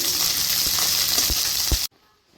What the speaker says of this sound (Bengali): এই অল্প অল্প করে ভেজে নিতে হবে সব সবজিগুলোকে